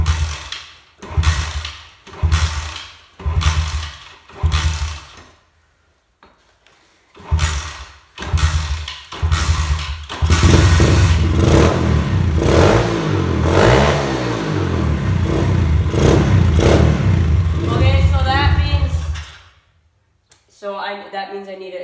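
A 4-stroke dirtbike engine gives a series of short, loud bursts as it is kicked over, then catches and runs with a steady, rough revving roar for several seconds before cutting off abruptly.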